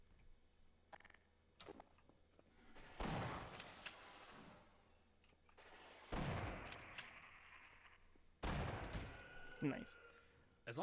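Gunfire in Half-Life: Source rings out in three loud bursts of shots with echoing decay, mixed with keyboard clicks and a person talking between shots.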